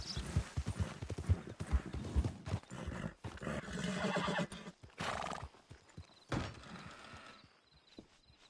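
Video-game horse clip-clopping along with hooves striking in a steady walking rhythm, broken by several loud neighs and whinnies, close and prominent with no talk over them.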